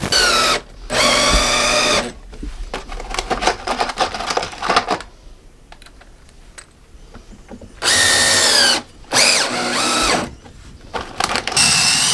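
A power drill with a masonry bit boring a hole during a toilet installation in an MCI E4500 bus conversion, loud bursts of whining motor and grinding separated by pauses with quieter handling sounds.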